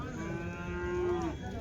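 A calf at a weekly cattle market lets out a single drawn-out moo lasting over a second, fairly close, with faint market murmur behind it.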